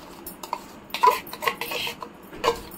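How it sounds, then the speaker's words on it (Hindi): Thick yogurt paste going into a pan of softened tomatoes for paneer do pyaza, with clinks of a metal spoon against the pan and scraping stirs, a few sharp knocks mixed with soft splats, close up and with no talking. "अब हम इसमें ये दही वाला जो हमने पेस्ट बनाया है इसको हम डाल देंगे"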